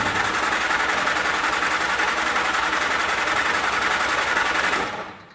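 A Jeep Flatfender engine with a newly added air cleaner and a long-dry carburetor cranks steadily and loudly in a continuous rapid churn, then cuts off abruptly near the end.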